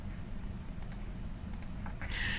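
Computer mouse clicks in LTspice come as two quick pairs of faint, crisp ticks, each pair closely spaced, over a quiet room hum, followed by a soft brushing rustle.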